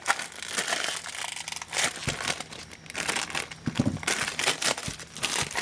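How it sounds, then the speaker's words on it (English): Plastic packaging on a pad of Post-it notes crinkles and crackles close by in irregular bursts, with sharp crunchy spikes scattered through a few seconds of handling. "Sorry about the crinkling."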